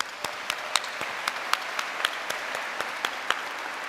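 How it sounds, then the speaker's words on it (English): Applause at a university graduation ceremony, sparse and hall-like, with individual sharp claps ringing out at a steady pace over a soft background. "So please join me in giving them a big round of applause."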